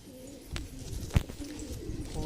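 High-flyer pigeons coo softly in a loft, low throaty calls recurring in short pulses alongside a sharp tap or wing flutter.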